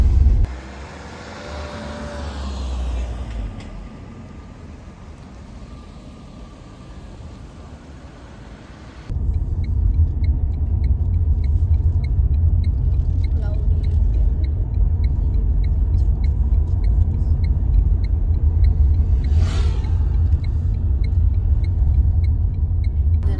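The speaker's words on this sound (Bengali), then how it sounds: "দেখো 30-তে গাড়ি চলছে" Car creeping slowly along a foggy, cloud-covered monsoon mountain road near Cherrapunjee, Meghalaya: a steady low engine and road rumble, quieter at first, then louder and continuous from about nine seconds, with a brief whoosh near the end.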